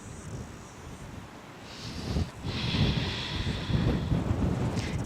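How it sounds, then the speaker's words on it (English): Gusty wind blows outdoors, a steady low broadband rush through the microphone that strengthens and stays loud after the first couple of seconds, with no voices. "It's very windy today."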